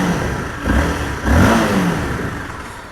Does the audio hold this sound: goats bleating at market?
no